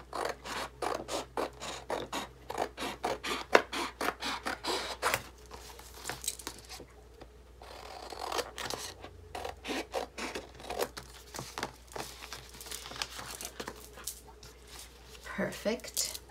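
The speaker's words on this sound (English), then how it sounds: "And then I can just cut the excess off" Scissors trimming excess paper off a planner collage, a dense run of close crisp snips and rustling paper scrapes with brief pauses, loud and near, with a voice heard alongside.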